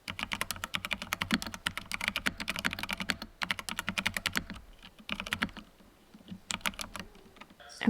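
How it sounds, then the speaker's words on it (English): Rapid, steady typing on a computer keyboard in a quiet room at home, the clicks coming in dense bursts with short pauses between them, close and fairly soft, with no voices. "I'm just going to be typing away, working,"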